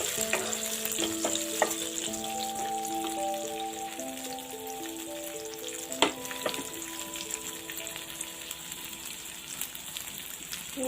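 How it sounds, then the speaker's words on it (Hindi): Cashews and raisins fry in hot oil in a pan, a steady close sizzle and crackle running throughout with occasional sharper pops and stirring clinks, no voices. "काजू और किशमिश भाजी की देबा।"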